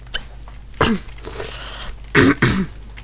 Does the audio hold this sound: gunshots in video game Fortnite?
no